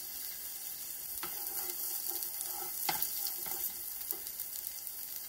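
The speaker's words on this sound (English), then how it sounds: "I'm going to stir this a bit." Roasted tomato soup being stirred in a pot, with a soft continuous sizzle-like wash and a few light spoon knocks against the pot, quiet and close with no talking.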